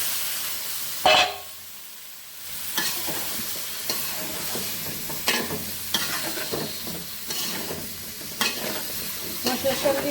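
Vegetables tipped into a hot pan start frying, a steady sizzle with repeated scraping stirs and clinks that continue near and fairly loud for several seconds.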